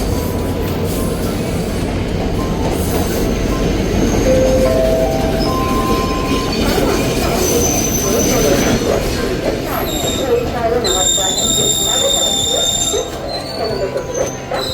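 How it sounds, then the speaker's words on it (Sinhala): The Udaya Devi Express, running from Batticaloa to Colombo, rolls into Polonnaruwa station with a loud, steady rumble of wheels on rail and high, drawn-out wheel squeals rising over it near the end. "උදයදේවි සීග්‍රගාමී දුම්රිය පොළොන්නරුව දුම්රිය ස්ථානය ළඟා වුණා"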